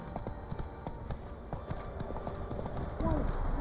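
Horse hooves clip-clop at a steady walking rhythm in The Witcher 3, fairly close and continuous beneath a faint murmur of game ambience, with a voice speaking near the end.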